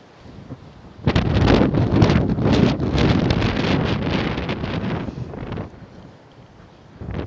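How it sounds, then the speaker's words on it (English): Strong gusty wind on a walking trail buffets the microphone, a loud roaring rumble that surges in after a quieter start and holds for several seconds before easing. "today we've got a 20 odd mile an hour wind"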